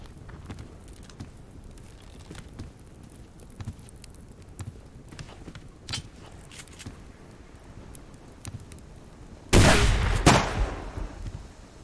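A short, loud burst of gunfire erupts late, several close shots fired in quick succession that break through a long stretch of quiet background ambience.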